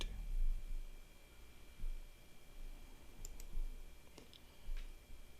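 A computer mouse clicking at a desk: a few sharp, sparse clicks over a low steady hum, close and quiet, no voices.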